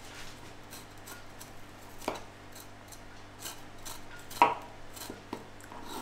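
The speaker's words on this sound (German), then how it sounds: "Und jetzt schneidest du die kleine niedliche Chili da klein." A knife slices a small chili pepper thinly on a board, faint sparse taps and clicks, a few sharper cuts standing out against a quiet room.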